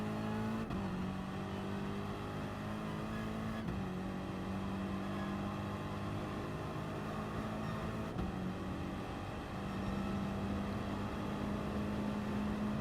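Race car engine in a racing video game at Interlagos, a loud steady whine that climbs in pitch through the gears, with short drops at each shift, close and continuous with no talk.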